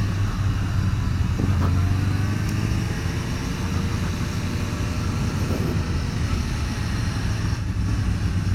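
A car engine runs steadily at around 3,500 RPM, a loud, close, continuous drone with a constant low hum and no talking over it.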